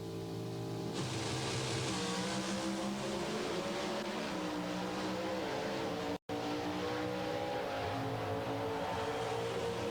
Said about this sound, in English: Steve, this race between Glidden and Warren Johnson could be called the Battle of the 5 Speeds